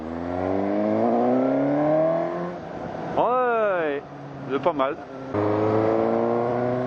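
A Suzuki GSX-S750 motorcycle engine roars steadily and then revs up in rising sweeps, with a person speaking briefly over it.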